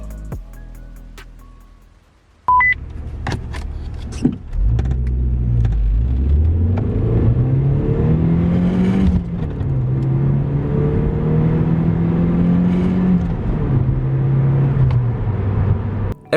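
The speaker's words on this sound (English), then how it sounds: "the car is ready for a test drive" A high-mileage Audi A6 Allroad diesel starts out on a test drive, its engine note climbing through several rising acceleration pulls with a steady mid-range drone and road rumble, close and continuous after a brief quiet start.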